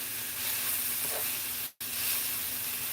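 Breakfast food sizzles steadily in a hot pan with a constant frying hiss, broken by one brief dropout partway through.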